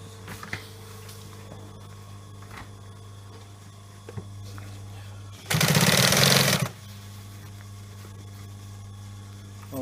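A sewing machine stitches a leather sofa replacement panel, running in one loud, close burst of about a second amid quieter workshop hum and occasional clicks.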